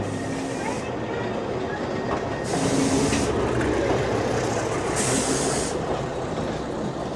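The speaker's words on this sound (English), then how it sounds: "the diesels that were at Aberdeen Olwen are now here" A diesel-hauled passenger train rolls into a station in Wales with a steady, loud rumble, wheels rattling over the rails, and brief faint voices in the background.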